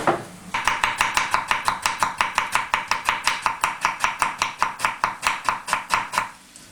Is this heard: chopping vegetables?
yes